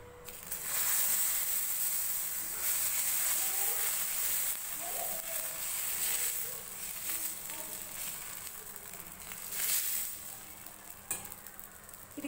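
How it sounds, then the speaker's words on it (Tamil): Adai batter, spiced with curry leaves and coriander, sizzles and crackles steadily on a hot dosa pan, a close, continuous frying hiss with small bursts and scrapes throughout. "இதில் அடையை ஊற்றி எடுத்துக்கலாம்."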